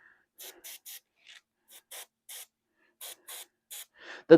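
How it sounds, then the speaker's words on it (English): Short hissing bursts of an airbrush spraying Vallejo metallic paint onto a miniature Warhammer Predator tank's undercarriage, about a dozen brief puffs in an irregular rhythm against near silence, close by. "she's spraying the undercarriage"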